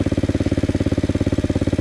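A small Loncin 110/125 motorcycle engine rolling in first gear with no throttle, giving a steady, close, fast pulsing putter with even firing beats throughout.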